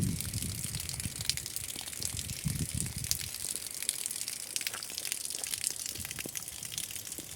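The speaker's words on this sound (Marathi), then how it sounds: "आता मी वालावर पाणी भरत आहे पिण्यासाठी" Drinking water runs from a tap into a container, a soft continuous gushing hiss with a few low splashy bursts early on, fairly faint and without talk.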